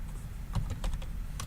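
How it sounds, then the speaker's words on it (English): A Microsoft Wired 600 keyboard clacks under a few scattered keystrokes, soft close taps spaced irregularly over a steady low room rumble, no voices. "Let's just open Notepad so I can type freely."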